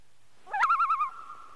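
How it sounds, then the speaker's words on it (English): A common loon gives a single wavering, tremolo call on a northern Wisconsin lake, rising and warbling before trailing off into a held note, clear and moderately close against quiet surroundings. "The call of the loon, it often echoes across the lakes of northern Wisconsin."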